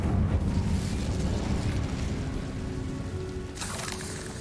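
A roaring, crackling burst of magical fire from the Incendio spell in Hogwarts Legacy, loud and dense with a low rumble, then a brighter whoosh near the end.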